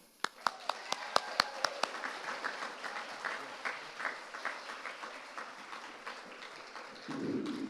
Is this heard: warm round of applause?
yes